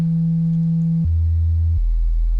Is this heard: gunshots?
no